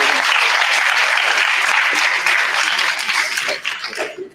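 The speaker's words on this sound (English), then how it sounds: "Another round of applause." Sustained audience applause at a panel event on media and information literacy, a dense wash of many hands clapping that stays loud throughout before thinning out in the final second.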